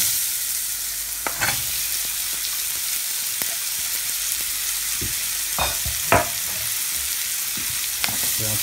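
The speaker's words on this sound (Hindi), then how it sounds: "प्याज को भी भून लेंगे थोड़ा सा।" Onions fry with cinnamon, cloves and black pepper in a pan, a constant close sizzle broken by scattered scraping and clinking stir strokes, with no talk.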